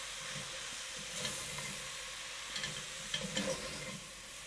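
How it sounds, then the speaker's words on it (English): Spinach wilting in a little leftover bacon grease in a pan gives off a steady, soft sizzle and hiss, with a few light stirring scrapes near the end. "But now I'll cook it just a little bit in that little bit of bacon grease in the bottom of the pan."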